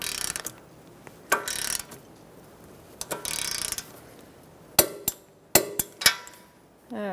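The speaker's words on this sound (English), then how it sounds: "let's torque this to 30 foot-pounds" A torque wrench tightens a slotted nut on the tie rod of a 2012-2019 Fiat 500. A few scattered ratcheting bursts come first, then a series of sharp, close clicks and a final quick ratchet rattle.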